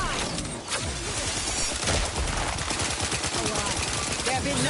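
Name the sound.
gunfire in the video game Outer Worlds 2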